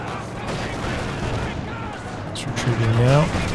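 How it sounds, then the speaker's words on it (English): Machine gun fire rattles through a Company of Heroes 2 2v2 battle, forming a dense, continuous layer of bursts and battle noise beneath an excited commentator's voice. "he's looking to force away this machine gun"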